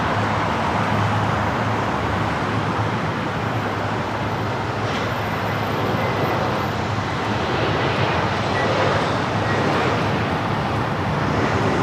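An airplane arriving on runway 7 right at LAX at night in challenging weather, a steady broad roar of jet engines and rushing air heard from a distance, constant throughout with a low hum underneath.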